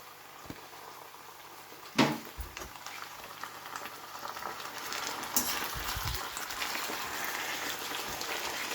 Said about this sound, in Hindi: प्याज को 2 मिनट बस सोटे कर दिया।